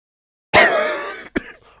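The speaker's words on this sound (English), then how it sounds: "Sorry for coughing in everyone's ear, by the way." A single harsh cough bursts out close to the microphone, followed by a brief second catch of the throat, in an otherwise silent room.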